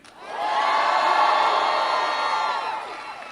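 A large crowd at a Joe Biden speech in Virginia erupts in loud, sustained cheering and whooping that swells quickly, holds for about two seconds, then fades.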